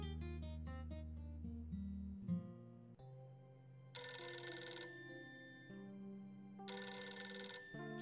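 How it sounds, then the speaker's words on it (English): A telephone rings in the video game Golf Story, playing a melodic electronic ring tone in two bright bursts, preceded by a descending chime-like musical figure, with no talking. "Phone's ringing."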